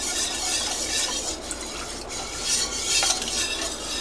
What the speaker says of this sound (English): We'll go ahead and come back and whisk this.